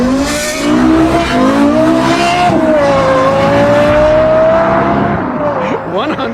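A Lexus LFA engine accelerates hard in a drag race, a loud, sustained rising howl with revs climbing steadily for several seconds before easing near the end.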